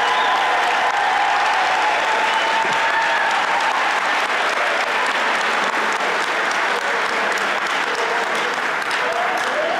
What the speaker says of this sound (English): How about one more round of applause for all these awesome volunteers?